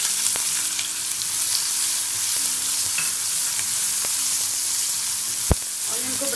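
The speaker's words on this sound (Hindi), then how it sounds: "ऑनियन जो मैंने स्लाइस में काटे थे वो डाल देंगे।" Sliced onions fry in a pan for a stuffed eggplant dish, giving a steady, even sizzle with occasional clicks and a sharp utensil tap near the end, heard close with no talking.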